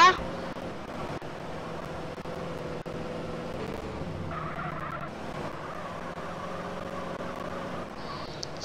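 A taxi drives in the video game GTA San Andreas, its engine a steady, continuous drone with a brief tonal shift midway, while someone talks over the gameplay.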